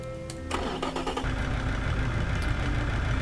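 A supercar engine in the Automation car-building game starts up and settles into a loud, rough, lumpy idle, close and continuous for a few seconds.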